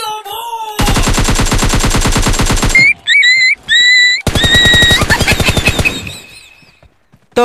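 Loud, close automatic gunfire in PUBG Lite, long rattling bursts of rapid shots separated by short gaps, with bright game effect tones between bursts before fading out.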